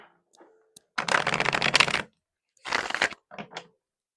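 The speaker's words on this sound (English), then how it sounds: "I'm feeling a call to shuffle right now." Two bursts of tarot cards being shuffled, a long riffle followed by a shorter one, close and crisp, with a few faint taps between.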